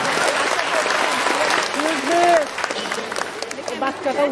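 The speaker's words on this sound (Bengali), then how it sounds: "ছোট্ট সোনামণিদেরকে জোরে করে তালি দিব আমরা" An audience claps for young children receiving prizes at a prize-giving ceremony, a steady round of applause with a voice speaking over it.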